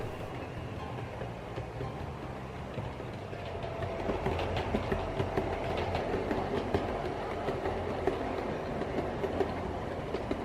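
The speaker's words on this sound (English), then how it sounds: "the Class 23 Baby Deltic, with a typical suburban train in tow" A model Class 23 Baby Deltic diesel locomotive pulling a suburban train rumbles along steadily with rhythmic clickety-clack from the wheels on the track, getting louder partway through as it comes closer, with no voices.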